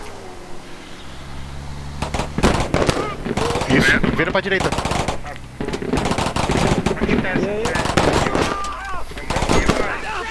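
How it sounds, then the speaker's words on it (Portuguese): Rapid bursts of anti-aircraft gunfire in the video game Squad, on the Al Basrah map, crackle repeatedly throughout, loud and close, with people talking over the shooting. "Ele tá tomando tiro de artilharia, eu acho. Acho que é antiaérea."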